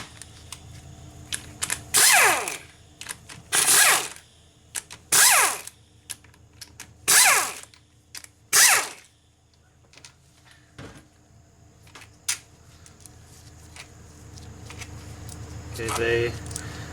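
Twelve-millimetre bolts being removed from the oil pump of an F4A42 transmission during teardown: five loud, evenly spaced bursts of ratchet clicking, close up, with quieter tool clinks between them and light background hum.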